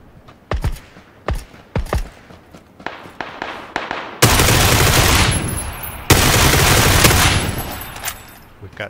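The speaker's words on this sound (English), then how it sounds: "We've got shots to our east also, or northeast even." Video game gunfire in a tactical shooter: sharp single shots crack out in an uneven rhythm, then give way to long, loud, dense bursts of sustained automatic fire.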